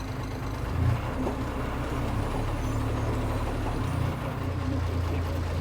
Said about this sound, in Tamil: இந்த வண்டி பாஸ் பண்ணுறதுக்குள்ளே இன்னொரு வண்டி வரலைன்னா நான் போவேன்.